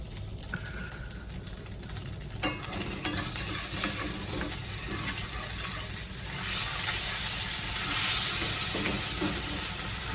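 Gravy being stirred in a pan of sizzling meat drippings left from cubed steak, with steady frying hiss and a continuous scrape of the utensil close by, growing louder partway through.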